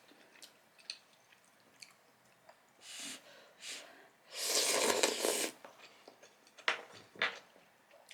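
Close, quiet chewing and slurping of spicy noodles at a mukbang meal, wet squishy bites with soft breaths between and one longer slurp in the middle.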